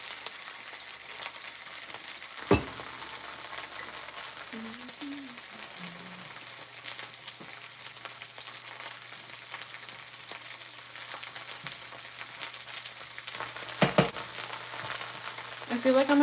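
Frijolitos seasoned with consommé sizzle softly in a pan, a faint, steady crackle with a few sharp clatters, while a voice speaks briefly in between.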